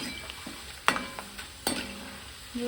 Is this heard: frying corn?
yes